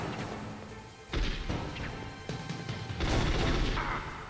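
Automatic rifle fire in Metal Gear Solid comes as loud bursts of rapid cracks, with a heavy crash near the start and another dense burst toward the end, all over continuous game noise.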